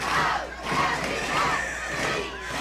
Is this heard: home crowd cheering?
yes